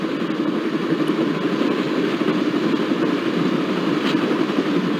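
A train rumbles steadily along in Broken Sword: Shadow of the Templars, a continuous loud rolling drone with no talk over it.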